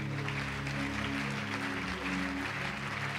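A church congregation claps in a steady, sustained wash of applause during a Pentecost service, mixed with faint voices and a low background hum, somewhat distant.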